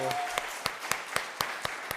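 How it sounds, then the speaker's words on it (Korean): A church congregation clapping in a steady, evenly spaced rhythm, about four claps a second, with a brief voice at the very start. "여러분, 박수 한번 할까요?"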